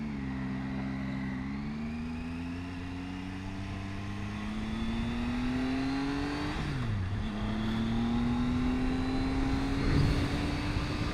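A Triumph Tiger 800 XCA adventure motorcycle rides through traffic with a steady engine drone, its pitch dipping, then climbing smoothly as it accelerates, amid moderate wind rush and no talking.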